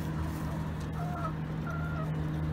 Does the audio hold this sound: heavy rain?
no